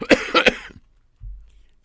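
A couple of sharp, close coughs in quick succession, followed by a brief low rumble and then quiet.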